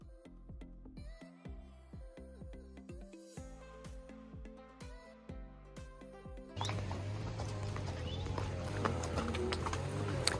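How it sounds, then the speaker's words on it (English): Horses walk along a guided trail ride in Colombia, their hooves clip-clopping in a steady rhythm at close range before a louder, noisier stretch of movement and rustling takes over. "We were set up with our horses and led by our guide, Alejandro."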